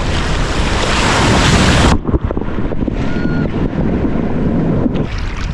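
Sea waves break and wash on a quiet Thai beach, loud roaring surf heavy with wind buffeting on the microphone, the rush easing slightly partway then continuing steadily.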